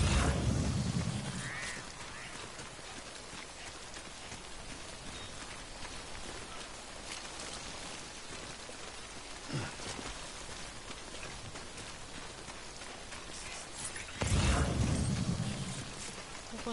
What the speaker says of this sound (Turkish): Güzel yağmur da yağıyor.